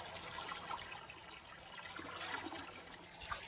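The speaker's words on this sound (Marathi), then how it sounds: "आता मी कूलर मध्ये पाणी भरत आहो" Water pours steadily into an air cooler's tank, a faint continuous splashing trickle with no talking over it.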